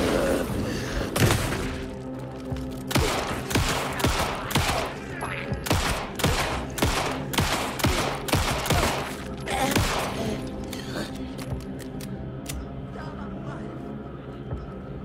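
Rapid gunfire in Alan Wake 2: a long run of sharp, loud shots in quick bursts, some clustered tightly and others spaced apart, tapering to sparser cracks toward the end, with no voices.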